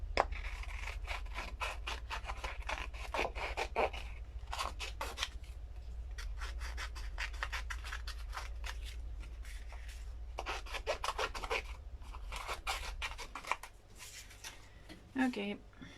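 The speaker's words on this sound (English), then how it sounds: "so now we're just gonna cut these out" Scissors snip steadily through paper shapes for a craft art journal page, a run of close crisp cuts and rasps in bursts with short pauses, under a low steady hum.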